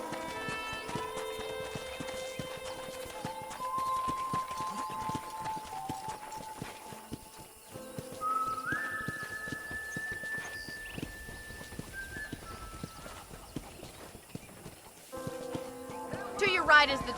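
Horse hooves clip-clopping at a steady walking rhythm in the Red Dead Redemption video game, under background music and a voice talking over it.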